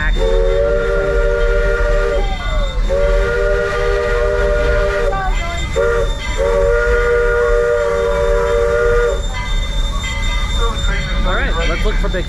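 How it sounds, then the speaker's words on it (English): Georgetown Loop Railroad train running, a loud steady rumble of cars on track with repeated sustained whistle blasts, the first ending in a falling pitch, and people talking over it. "You can make the 4-hour trip up to Silver Loop over the Georgetown Loop Railroad."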